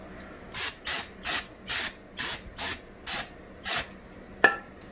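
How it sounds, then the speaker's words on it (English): Nine short bursts of aerosol cleaner spray hiss out in an even rhythm onto greasy engine parts, close and loud, each about a third of a second long. "let's go ahead and spray it down."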